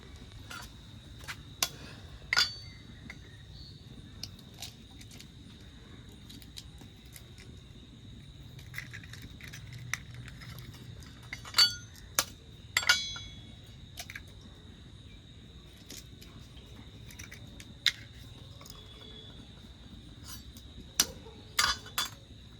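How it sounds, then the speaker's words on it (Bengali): Three eggs cracked in a home kitchen for fish-roe cutlets give sharp taps and clicks scattered through a quiet background, some in quick pairs and clusters. "তো ডিমটাকে আমি এখন ফাটিয়ে নেবো"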